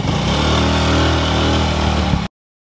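Wmoto Cruiser 125 AMT motorcycle engine running steadily nearby, a loud even mid-pitched drone with no speech, cutting off abruptly before the end.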